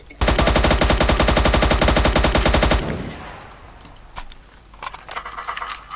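Rapid automatic fire from an M4A1 rifle in a video game, a loud, dense burst of evenly spaced shots lasting nearly three seconds, then cut off, followed by quieter in-game clatter and scattered clicks.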